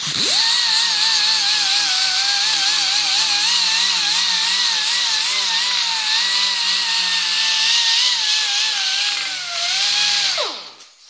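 A power tool whines loudly and steadily at high pitch, wavering slightly in speed, then spins down and stops near the end.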